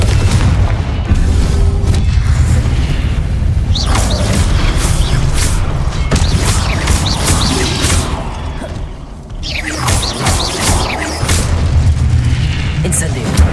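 Confringo fire-blast spells from Hogwarts Legacy explode in repeated loud booms and whooshes amid heavy, noisy combat, with a voice shouting spell names over them.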